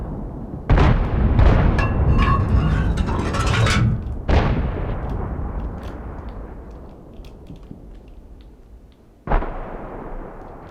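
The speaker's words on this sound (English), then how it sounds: "you can hear like kind of the shells whizzing above your head and stuff like that" Heavy tank shells firing and whizzing overhead in the World of Tanks game: a loud booming blast, then a second sharp shot, a long rumbling decay and a later third report, with no talk.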